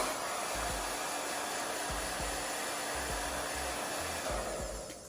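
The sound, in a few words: hair dryer running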